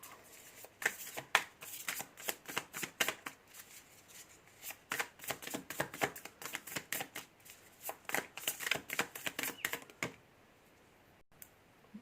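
Tarot cards being shuffled close up: rapid riffling bursts of crisp flicking clicks in an uneven rhythm for about ten seconds, then near silence.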